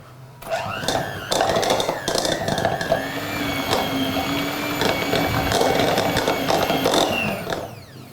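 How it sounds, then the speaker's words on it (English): An electric hand mixer beats cream cheese and butter together in a bowl, a steady whirring motor hum running close and loud for several seconds, with faint scraping of the beaters against the sides. "cream them together using the electric mixer"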